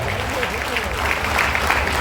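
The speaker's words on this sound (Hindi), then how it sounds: "चलिए जोरदार ताली हो जाए" A gathering at a church assembly claps loudly, a dense, steady roar of applause filling the short stretch, with some crowd noise mixed in.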